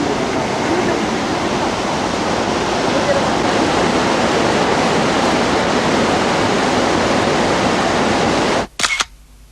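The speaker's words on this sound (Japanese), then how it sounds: "去年私たちも見に行きましたよ、この華厳の滝。" Kegon Falls in Nikko roars as a loud, continuous broadband rush of falling water, steady and close, ending abruptly with a brief click near the end.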